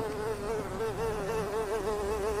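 A fly buzzing sound effect in a radio play gives off a loud, close, steady drone that wavers slightly in pitch and runs on throughout, with no talk.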